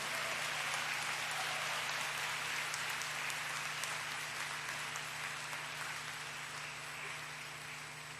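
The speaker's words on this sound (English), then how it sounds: "let us give a huge round of applause for the graduating class of" A large audience applauds the graduating class of 2024 at a convocation ceremony, producing dense, steady clapping that fills the whole stretch and eases off slightly toward the end.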